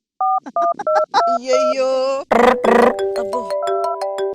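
A quick run of touch-tone dialing beeps, then a steady ringback tone and a brief voice exclamation, followed by more tones and ringing pulses, loud and close, during a comedy stage performance.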